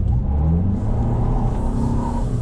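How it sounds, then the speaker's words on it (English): A 2021 Toyota Sienna hybrid minivan accelerates hard in sport mode to spin its front tires, with a loud, close engine drone and rumble that swells and holds steady. "I'm going to peel out on the front tires."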